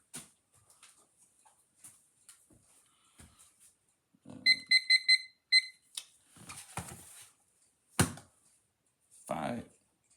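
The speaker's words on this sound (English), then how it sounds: "let me get out the timer" Kitchen timer being set while preparing pizza, a quick cluster of close, high electronic beeps amid scattered handling clicks and knocks, with a person talking quietly.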